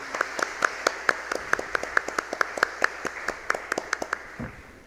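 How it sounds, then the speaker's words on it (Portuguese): An audience applauds a professor at a music-education memorial event in Bagé, a sparse scattering of distinct claps in a loose rhythm lasting several seconds, fading at the end. "Uma salva de palmas para o professor Renato Paim."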